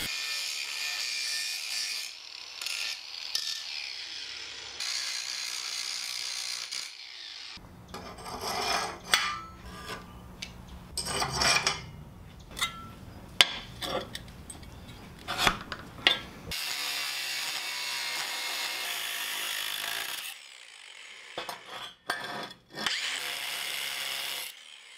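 A power tool cuts through work-hardened metal and welds on a rocket stove build. The harsh, rasping cut runs in bursts with pauses, heaviest and loudest through the middle, with no talking.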